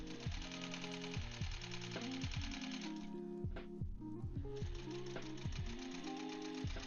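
Sewing machine stitching quilt seams for a mystery quilt, a steady loud mechanical needle chatter running in continuous bursts with brief pauses, close up and alone without talk.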